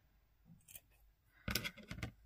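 Scissors snipping through tulle nearby: a faint first snip, then a louder cluster of quick crisp cuts, with quiet pauses between.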